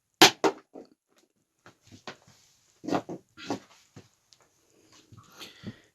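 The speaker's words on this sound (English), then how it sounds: "It'd be really cool if my dog would quit breathing so hard." A dog breathes hard, close by, in several quick breathy panting bursts with short gaps between them, then a quieter stretch and faint soft sounds near the end.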